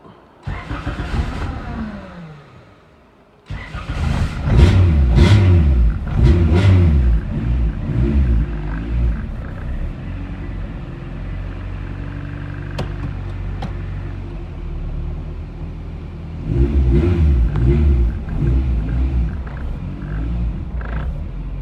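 A hybrid race car starts and then accelerates hard through several rising revs, loud and close, before it settles to a steadier engine drone and finishes with another burst of revving.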